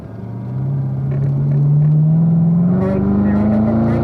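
A Corvette Z06 accelerates in fourth gear on a race track, with a loud, close engine note whose pitch climbs steadily as the revs build, a rumbling in-car drone throughout.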